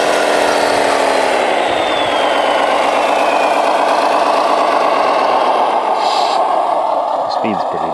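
Kenworth RC model truck running flat out in first gear, a loud, close, continuous electric-motor whine with gear buzz that rises slightly in pitch, then thins near the end.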